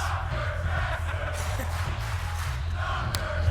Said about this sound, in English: The crowd clearly behind Tracksuit here.